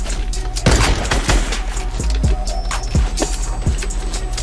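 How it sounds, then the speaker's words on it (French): Fortnite gunfire crackling in from several directions, a rapid string of loud close shots and thuds with scattered distant pops, played out in a busy battle. "ça me tire de tous les côtés"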